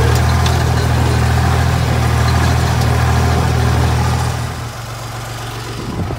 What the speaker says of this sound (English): Alright, so far, the tractor's running it.